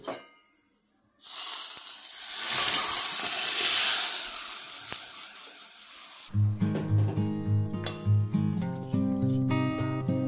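Hot desi ghee sizzles and hisses as cumin seeds and asafoetida are tipped in to temper pumpkin raita, a loud burst of frying that swells then settles, followed by unrelated music.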